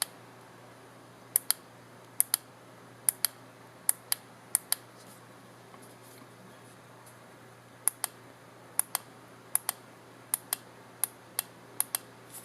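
Element Gear AXON remote switch clicking crisply and close, mostly in quick pairs of press and release repeated across a quiet room with no talk.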